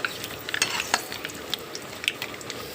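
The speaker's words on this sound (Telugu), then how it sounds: "కరివేపాకు ఇవన్నీ వేసి పోపులు పెట్టుకోవాలండి." Cumin, mustard seeds, urad dal, dried red chili, garlic and curry leaves fry in oil as tempering for tomato rasam, with a soft crackling sizzle and scattered sharp pops and ticks of stirring up close.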